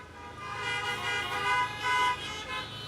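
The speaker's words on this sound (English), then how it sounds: "I'm asking that you flash your lights or give us a quick honk for the Brelvi family" Car horns honk in salute at a 2020 drive-in high school graduation, a steady overlapping chorus of sustained horn tones from many parked vehicles that swells and fades over a few seconds, with no talking.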